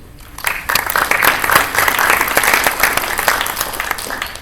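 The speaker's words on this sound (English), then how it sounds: "Give a round of applause." Audience applause at a B-Sides event in Albuquerque, a steady wash of many hands clapping that swells in after a quiet start and holds strong throughout, with no talking.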